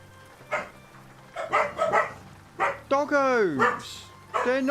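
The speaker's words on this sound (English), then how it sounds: "Doggos! They're not coming here. They're across the road." Several dogs bark and yip from across a road, producing short bursts of barks and a drawn-out howling whine, with someone talking at the same time.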